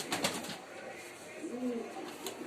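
A young female pigeon, freshly moulted, gives a soft low coo midway through, close and fairly quiet amid light background noise and faint rustling.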